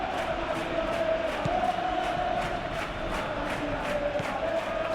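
Football crowd noise in the eFootball 21 video game during a Real Madrid versus Girona La Liga match: a steady stadium murmur with swelling cheers and rhythmic chanting throughout.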